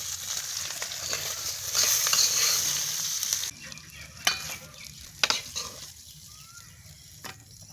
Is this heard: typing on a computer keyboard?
no